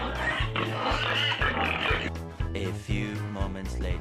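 Loud, continuous squealing and grunting from a crowd of hungry pigs awaiting feed, with rhythmic low thumps throughout and no pauses in the din.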